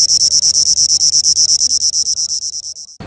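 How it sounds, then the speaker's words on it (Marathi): Loud, high-pitched cricket chirping in a steady rapid pulse, close up, continuing for nearly three seconds before stopping abruptly. "आपण रातकिड्याचा आवाज नेहमी ऐकतो"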